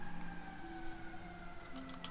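Emergency sirens from a police or firefighter TV show playing in the background, steady wailing tones held and shifting in pitch, moderately quiet and continuous throughout.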